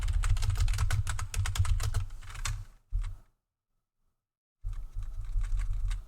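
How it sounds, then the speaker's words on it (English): Rapid typing on a computer keyboard sits close to a desk microphone, a dense run of loud clicking keystrokes that stops for about a second and a half, then resumes. "you will hear loud noises from my keyboard because my microphone's sitting on my desk where the keyboard is"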